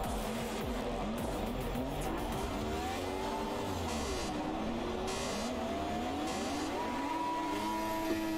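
Race car engines in the racing game Project Cars rev up and down continuously, gear changes sweeping the pitch in repeated climbs and drops, with tire noise underneath; the sound stays loud and close throughout, with no talking.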